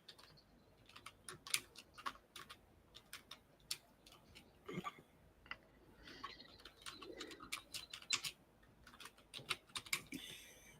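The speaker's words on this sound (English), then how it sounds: "For Arlene, I'm going to type in comments" Fingers tapping a computer keyboard in quiet irregular bursts of clicks, close and soft, with faint bird cooing in the background.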